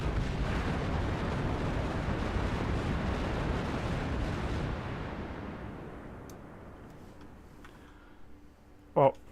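Heavy rumbling explosion from torpedo hits striking a ship's side in the naval strategy game Task Force Admiral, a loud sustained roar that slowly fades over several seconds, ending with a short sharp burst.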